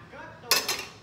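A small cooking pan is handled, giving a brief light metallic clink and rattle amid a quiet room.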